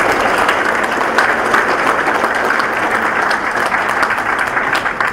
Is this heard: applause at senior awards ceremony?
yes